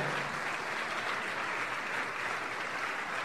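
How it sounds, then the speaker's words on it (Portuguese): A church congregation claps steadily in a dense, continuous wash of applause, with no pauses or distinct voices. "Vamos aplaudir o Senhor Jesus."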